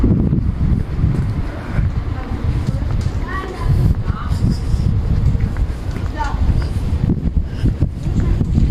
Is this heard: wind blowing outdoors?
yes